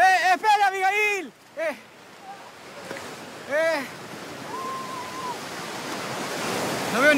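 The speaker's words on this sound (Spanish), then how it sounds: "Las olas de Lima son lo mejor." Ocean waves break on the shore at Lima, a broad rushing surf that swells louder toward the end, with people shouting and talking over it early on.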